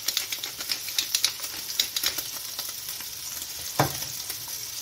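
A seasoned duck breast fries fat side down in a pan, giving a steady sizzle with rapid crackling spatters and one louder knock partway through.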